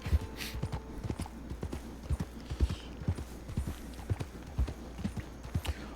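Horse hooves clip-clop at a steady walking pace in a Red Dead roleplay game, a soft, even rhythm of fairly quiet thuds with no talking.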